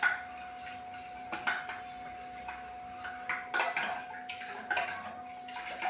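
A spoon stirs a ragi and water mixture in a metal pot, giving repeated scraping clinks and taps close by in a quiet kitchen, with a faint steady hum underneath.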